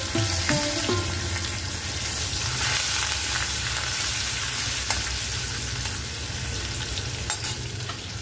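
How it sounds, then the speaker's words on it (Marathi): Chopped green chilies and curry leaves dropped into hot oil already tempered with cumin and asafoetida, giving a steady loud crackling sizzle with some stirring, close up and without speech throughout. "ही हिरवी मिरची घेतली कापून ती घालते आणि कढीपत्ता घालते।"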